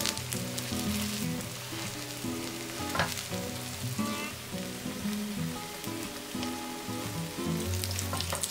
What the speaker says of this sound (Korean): 중약불에 식용유 많이 둘러서 반죽 올리고 뒤집개로 지그시 눌러서 모양을 예쁘게 잡아줬다